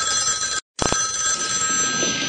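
A 1975-era telephone bell ringing in a horror film trailer, a loud, steady metallic ring cut by a short gap, with no one speaking.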